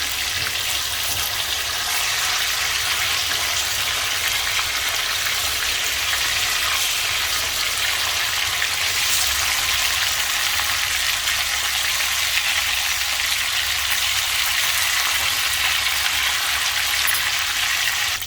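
Fish pieces fry in hot oil in a pan for Sindhi onion fish, producing a continuous, loud, even sizzle and crackle throughout with no talking.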